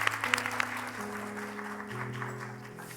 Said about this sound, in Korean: 큰 박수로 환영해 주시겠습니다.